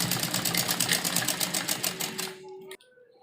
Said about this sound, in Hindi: और इसी तरह दूसरी तरफ भी हमें सिलाई लगानी है